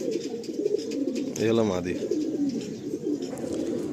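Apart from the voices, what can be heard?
tournament pigeons cooing in their loft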